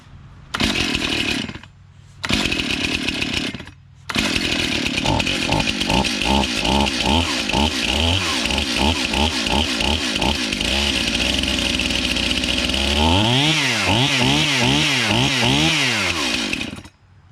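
A repaired Stihl MS291 chainsaw starts with short bursts, then idles and revs in a loud rhythmic rising and falling whine, climbing to a sustained high-rpm scream near the end before cutting off.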